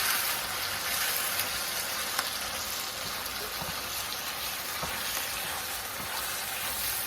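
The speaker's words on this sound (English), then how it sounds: "We'll give that a stir" Chilies stirring in a casserole pan give a steady, even sizzle and hiss that runs throughout, moderately loud and close, with no voices.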